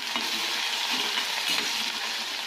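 Finely chopped onion frying in hot oil, a dense steady sizzle with soft stirring close by, no talking.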